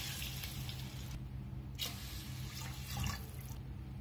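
Water is poured into a pot of rice and fried onion for khichdi, a soft, continuous splashing trickle with slight surges, heard faintly and alone without talk.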